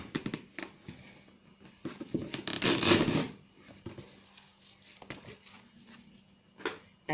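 Packing tape is pulled off a cardboard box while a figure is unboxed, close rough ripping and crackling in short bursts, with one louder, longer tearing stretch in the middle and scattered rustling around it.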